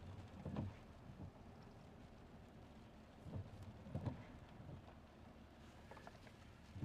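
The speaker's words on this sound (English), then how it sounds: "that wind is howling, whistling through the weeds" Faint, distant storm wind whipping and howling through weeds, a low continuous rush that swells in a few gusty bursts and then eases back again.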